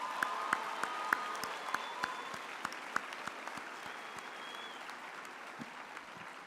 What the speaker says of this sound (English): give yourself again a warm hand of applause